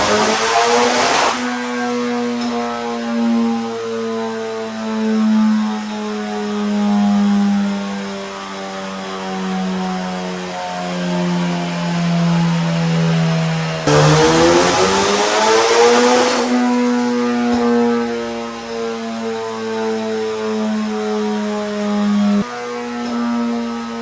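Honda K20 race engine screaming on a dyno, sustained high revs with harmonic whine, a brief drop and surge in pitch midway, loud and continuous with no voices.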